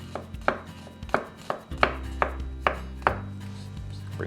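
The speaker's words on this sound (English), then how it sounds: "about a thumb's length of ginger. I just want to chop this up very finely." A knife finely chopping a thumb-length piece of ginger on a cutting board, about a dozen crisp, evenly spaced thuds close by, with no talking.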